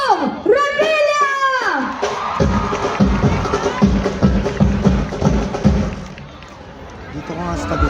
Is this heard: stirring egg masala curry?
no